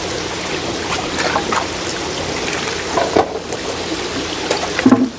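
Water pours and trickles steadily into a fish-holding container beside a 5,000-gallon tank, a continuous splashing wash with a few louder sloshes near the end and no talk.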